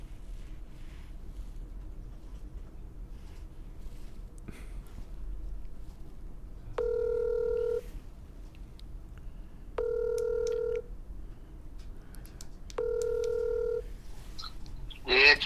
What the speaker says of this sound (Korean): 제가 지금 전화를 연결하겠습니다.